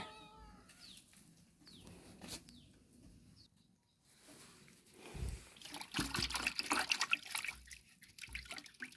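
Water splashing and trickling as items are washed one at a time, rising into busy, close splashes in the second half after a cat meows faintly several times early on.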